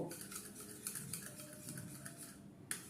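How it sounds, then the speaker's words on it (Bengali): Sour yogurt is whisked in a bowl, with quick, light metallic clinks and scrapes of a utensil against the bowl in an uneven rhythm, close and fairly soft, with no talking. "তো এই টক দইটাকে ভালো করে আমি ফেটিয়ে নেব।"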